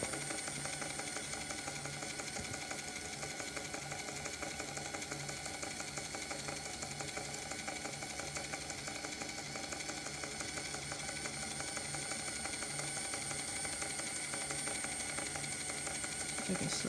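Hornby King George V R3330 model locomotive running on track, a steady quiet mechanical whir with fine ticking and rattling from the motor and wheels, continuous and even throughout.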